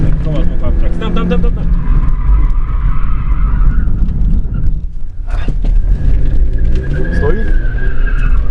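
A car in a driving lesson swings through a turn with the throttle eased, tyres scrubbing and briefly skidding before gripping again, the engine loud and close, while an instructor's voice talks over it.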